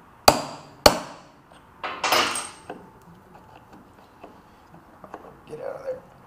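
A hammer strikes a center punch on metal: two sharp, close metallic raps, then a scrape-like clatter and faint handling noises.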